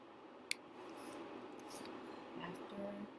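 Scissors snipping through paper nearby, a soft crisp cut or two over quiet room tone, faint and brief.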